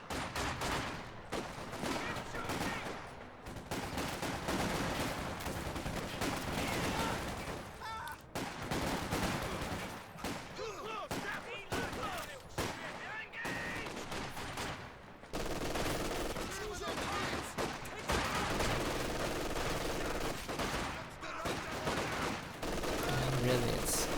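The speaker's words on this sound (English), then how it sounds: "They've gone for a second machine gun to try and stop all of the infantry flanks." Machine gun fire rattles in bursts through a real-time strategy battle with infantry flanking, dense and continuous with other gunfire and explosions, mixed under an ongoing voice commentary.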